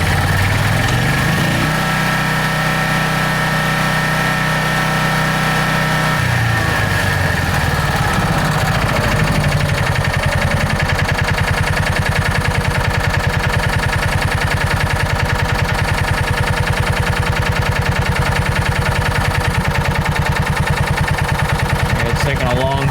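A John Deere Gator 4x2 with a sticky clutch and a hard-start idle problem idles loudly and close at around 1150 rpm. Its pitch shifts partway through, and voices speak over the engine.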